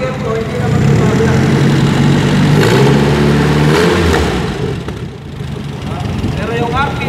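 A car engine runs during a gasoline tune-up, holding a steady idle around 650 to 700 RPM with a low continuous drone and slight swells, while people talk over it throughout.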